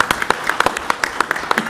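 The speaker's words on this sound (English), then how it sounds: "I think she deserves a round of applause" Sparse clapping at a city commission meeting for a presenter named Norma: a handful of distinct, fairly close hand claps in an uneven rhythm, loud and separate rather than a full crowd.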